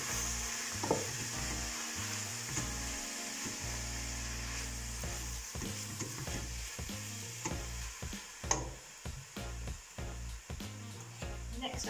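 Batter for vegan handvo is stirred in a frying pan, giving repeated scraping strokes over a steady sizzle, with some louder knocks near the end and no talking.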